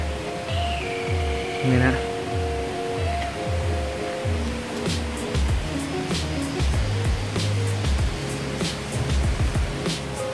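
A waterfall in the grounds of a resort in Mae Rim, Chiang Mai, gives a steady rushing wash of falling water, with birdsong and a voice speaking over it nearby.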